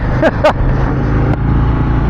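A Harley-Davidson Road Glide ST performance bagger's engine runs loud and close with a deep, throbbing drone, with a couple of sharp bursts near the start.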